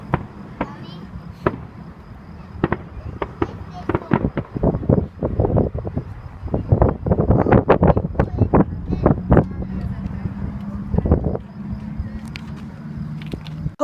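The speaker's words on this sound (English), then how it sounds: "Hope you enjoyed those fireworks." Backyard fireworks explode in a rapid barrage of sharp bangs and crackles, some close and loud, others fainter, with brief quiet gaps and people talking over the display.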